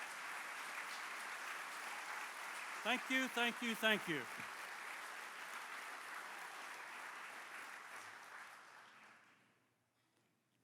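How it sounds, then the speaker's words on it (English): Sustained applause from a dinner crowd honoring standing veterans and active-duty service members, steady clapping that fades out near the end, with a voice briefly thanking the room over it. "give them a round of applause."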